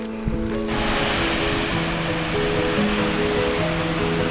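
Steady rushing water roars continuously, a broad dense wash of sound from a nearby waterfall on a hiking trail in Oregon, with a faint engine-like hum underneath.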